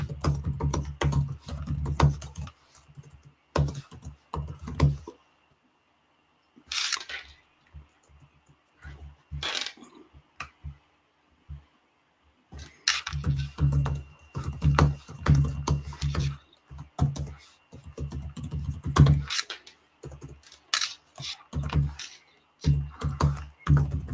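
Keys clatter in bursts on a computer keyboard as someone types a what's-new post, steady clicking runs broken by short pauses, close and moderately loud with no talking.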